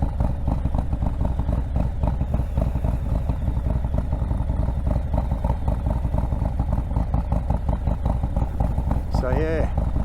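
A Harley-Davidson Softail ridden on the road, its engine rumbling steadily and loudly throughout, heavy wind buffeting over a helmet-mounted mic, with a rider's voice briefly near the end.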